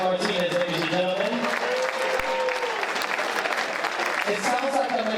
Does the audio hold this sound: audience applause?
yes